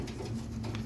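Low, soft cooing of a giant pigeon kept as a pet, a steady murmuring hum close by with no one speaking.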